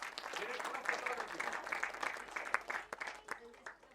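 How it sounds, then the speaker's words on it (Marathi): Audience applause at a film trailer launch event, scattered clapping from a crowd heard fairly faint and distant, with voices talking beneath and over it. "सो संजयसाठी एकदा टाळ्या वाजूया"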